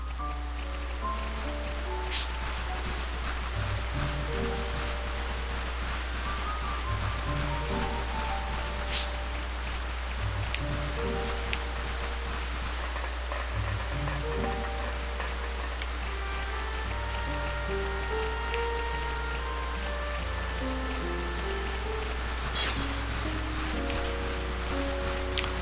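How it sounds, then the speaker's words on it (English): Steady rain patters continuously across the whole stretch in the video game Xenoblade, with a low ambient hum and occasional soft tonal chimes in the background. "Oh, it's raining."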